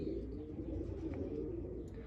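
A pigeon coos in a low, soft, continuous murmur, faint and close, with no voices over it.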